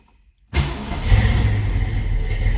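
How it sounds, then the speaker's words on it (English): A 1965 Ford Mustang coupe's 302 V8 fires up abruptly after near silence and settles straight into a steady, rumbling idle, close and fairly loud. "Let's go ahead and start this up and see how she runs."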